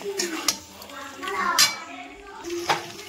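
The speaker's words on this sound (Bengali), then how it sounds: "এবার মশলার সঙ্গে চিকেনগুলো ভালো করে আমি কষিয়ে নেব" Chicken pieces being stir-fried with spices in a pan for a restaurant-style chicken rezala at home, with a spatula scraping and clinking against the metal pan in several sharp strokes over a low background.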